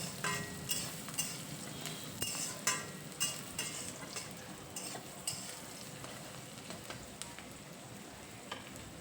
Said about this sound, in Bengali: এই দেখো, পেঁয়াজটা ভালো করে বেরেস্তা করে তুলে রেখে দেব।